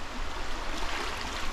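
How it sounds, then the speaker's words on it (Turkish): A muddy stream flowing downhill near Thailand, heard as steady broadband rushing water close by, continuous and unbroken with no talk. "bir dere sanırım bu. Çamurlu bir dere."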